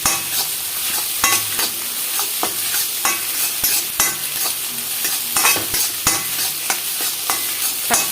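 Egg stir-fried for fried rice in a thick, heavy wok, with steady sizzling and repeated sharp scrapes and clacks of a spatula against the metal, close and loud with no talk.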